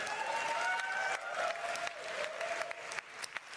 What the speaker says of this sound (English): Everybody clapping is in the back of the theater because they were late.